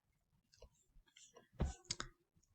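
A computer mouse clicks a few times while a Facebook page is being set up, with faint, sparse clicks and a brighter pair of clicks near the end.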